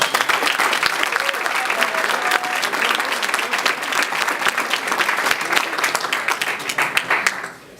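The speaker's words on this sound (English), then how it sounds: "Big round of applause for all of them." Sustained audience applause fills a room at a readers' choice awards event honoring top nonprofit winners, loud and dense for about seven seconds before tapering off.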